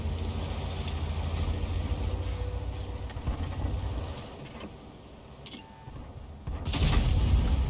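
Booming tank cannon fire in a tank video game, a KV-2 shell hitting a Churchill III amid rumbling engine noise, with a sharp loud blast near the end.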